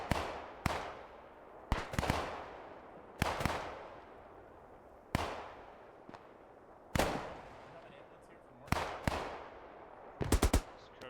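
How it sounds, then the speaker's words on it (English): Repeated bursts of machine gun fire in a wartime shooter game, sharp loud volleys spaced a second or two apart with a rapid cluster near the end, over a low rumbling background. "Maybe they opted for the machine gun team after all."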